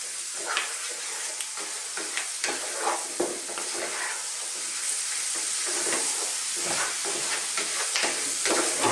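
Lean cubed beef frying in a pot for a beef and potato curry, a dense crackling sizzle with repeated stirring scrapes and a bright steamy hiss holding steady near the mic; nobody speaks.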